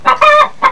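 A hen clucks up close, three short loud clucks in quick succession with a brief pause before the last.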